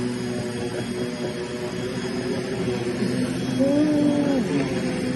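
A Rainbow water-filter vacuum cleaner runs on carpet with a loud, steady motor drone, its pitch rising slightly near the end, and no voices over it.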